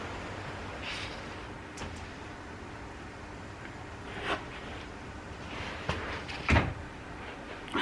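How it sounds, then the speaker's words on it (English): An outside door at a home being shut, heard as a few knocks and thuds spread across a quiet room, with the loudest sharp slam near the end and no talking. "I just shut the outside door just in case the neighbours were listening"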